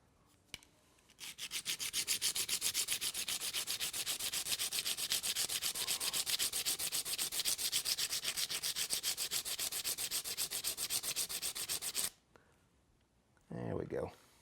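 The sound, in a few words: sharpening a two-blade broadhead edge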